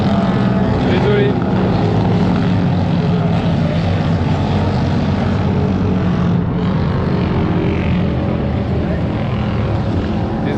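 Vintage racing motorcycles at the Coupes Moto Légende 2023 race on a circuit produce a loud, continuous engine roar, with several machines blending into one sustained drone that covers the whole stretch without a break.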